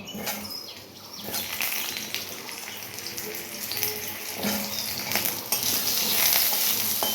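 Mango chutney frying in a pan gives a close, continuous hiss and sizzle with occasional scraping and stirring bursts, steady throughout with no talking.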